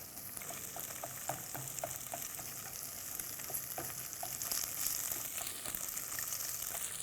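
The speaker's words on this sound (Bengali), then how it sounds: "আর এইভাবে ঘন ঘন নেড়ে ডিমটাকে টুকরা টুকরা করে দিতে হবে" Egg seasoned with salt and pepper fries in a pan while being stirred and broken into small pieces, a soft continuous sizzle punctuated by light, repeated scraping taps of the utensil, alone and fairly quiet.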